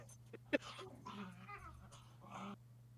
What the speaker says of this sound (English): dog fight happening at the same time